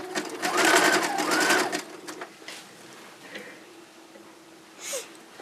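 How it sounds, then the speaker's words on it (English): Sewing machine stitching a wide zigzag over a floating core on a fabric pad, whirring in a loud, fast burst for a couple of seconds before slowing and dropping to a faint hum. "So I got a nice wide zigzag to go over the floating core."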